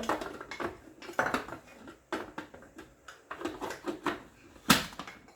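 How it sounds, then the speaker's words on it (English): A lid is set onto a pot in a home kitchen: a string of light metallic clatters and taps comes in uneven bursts, ending in one sharper, louder clank, with quiet room noise between. "now we're going to put the lid on"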